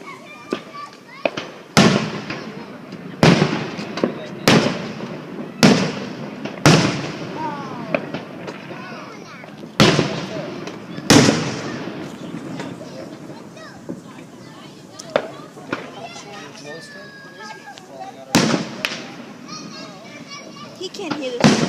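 Fireworks at a July 4th show in California, 2014, with a series of sharp, loud bursts and crackles in irregular succession, some near and some more distant, with people talking and children's voices in the background between the blasts.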